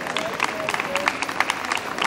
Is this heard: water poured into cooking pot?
no